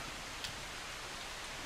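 Steady rain in the zombie survival game Project Zomboid, a constant soft hiss filling the whole stretch, fairly faint and even, with one brief tick partway through and no talking.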